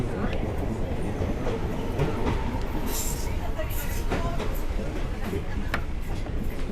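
Train rolling along its tracks on the line to Elgin, a steady loud rumble of wheels and carriage noise with faint clicks and occasional higher rattles, heard up close as if from an open window.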